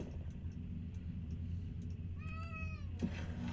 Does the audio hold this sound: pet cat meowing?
yes